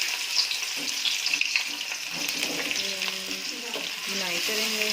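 Onions browning in a pan of hot ghee while chapni pumpkin is cooked, a steady hiss of frying with stirring clatter throughout, a person speaking briefly over it.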